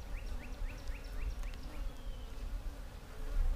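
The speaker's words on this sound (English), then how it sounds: "Kind of riling the bees up." Honey bees swarm and buzz around an opened hive fed with sugar syrup, a steady dense drone with individual insects zipping close past, continuous for the whole stretch with no talking.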